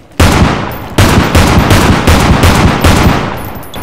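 Sustained automatic gunfire from a machine gun in a video game, loud and continuous with rapid rattling bursts and several sharp restarts, no talking over it.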